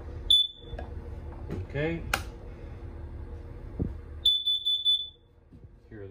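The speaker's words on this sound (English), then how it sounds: "Right here we have the hardwired propane leak detector, also a CO detector." A hardwired propane leak and carbon monoxide detector in a Wildwood 393 travel trailer gives two short, piercing electronic beeps a few seconds apart, with a person speaking and moving nearby.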